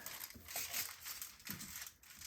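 Scissors snipping through a folded sheet of household aluminum foil, giving a few close crinkly, crackling cuts in an uneven rhythm with no voices.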